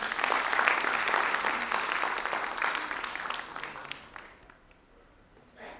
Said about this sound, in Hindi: मैं चाहूँगा कि एक बार उन दोनों के लिए तालियां बजा दी जाए।